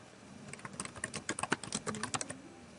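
Quick, uneven keystrokes clatter on a computer keyboard as a comment is typed, a short burst of close, crisp clicks with no talking.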